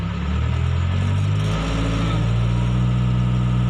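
Diesel engine of a Hitachi Zaxis 70 backhoe revving at high RPM, a loud, steady, close drone that holds level throughout with a slight dip partway.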